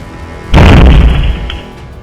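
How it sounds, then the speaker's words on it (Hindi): A car set alight at midnight by unknown attackers in a residential area explodes with a sudden loud boom, followed by a sustained roaring rumble of fire that gradually eases. "जैसे ही कार में आग लगी, जोरदार धमाका हुआ।"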